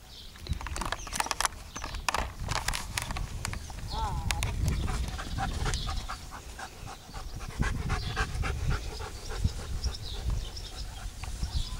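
Rapid panting from small dogs, with scattered clicks and shuffling, while people talk over it nearby.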